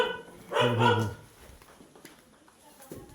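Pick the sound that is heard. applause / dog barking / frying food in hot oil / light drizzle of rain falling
dog barking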